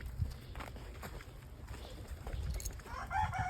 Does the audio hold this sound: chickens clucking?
yes